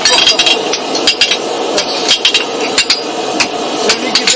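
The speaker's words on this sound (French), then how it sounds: "les petits coups de marteau sont importants à côté?" Rapid, evenly paced metallic taps from a farrier's hammer on an anvil at a forge in Massérac, Loire-Atlantique, ringing close and bright in a steady series with no talk over them.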